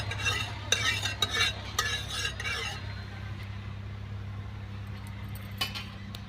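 Oil being spread across a hot tawa for garlic-greens flatbread, with a quick burst of metallic scraping and clinks up front, then a low steady sizzle that carries on with a few scattered taps.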